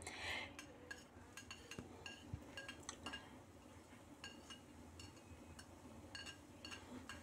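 Garlic sautéing in a pan, heard as light metallic clinks and taps of a utensil against the pan over a faint sizzle, close, quiet and intermittent.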